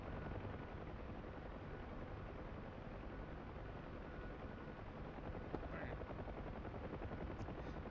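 A Huey helicopter in the DCS flight simulator flies low and fast, about 90 knots at 200 feet, producing a continuous dense rotor and engine roar that holds steady throughout.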